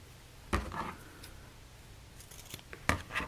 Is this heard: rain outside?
no